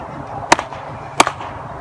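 A tennis racket cleanly strikes a foam ball twice, each hit a sharp whip-like crack about 0.7 seconds apart, close and loud against a quiet background.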